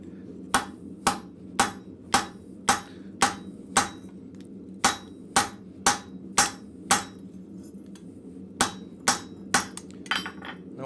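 A hammer setting a rivet on blacksmith flat bit tongs at a forge, sharp ringing strikes in steady bursts of several blows separated by short pauses, close and clear with no talk.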